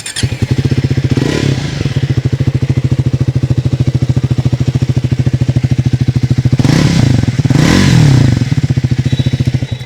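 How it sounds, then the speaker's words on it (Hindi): A Triumph Speed 400 motorcycle idles up close with a loud, steady, thumping exhaust beat that swells slightly in two brief blips of revving. "The Triumph speed 400 here."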